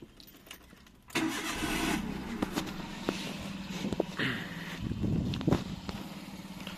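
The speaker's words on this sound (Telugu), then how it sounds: "ఒకసారి ఇంజన్ సెల్ఫ్ కొట్టి చూద్దాం ఫ్రెండ్స్" A Maruti Alto K10 car engine cranks and fires on the self-starter, catching at once and settling into a steady, close idle with small revving bumps, heard alone without talk.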